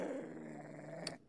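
Low, rumbling growl from a dog in the video game Anglerfish, steady and moderately close for about a second, ending with a brief sharp noise before it cuts off.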